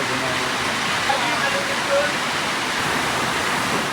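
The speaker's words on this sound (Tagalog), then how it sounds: "biglang buhos yung napakalakas na ulan" Heavy rain pours down steadily on the roof of a mini warehouse in a dense, unbroken hiss that fills the whole stretch, loud and close.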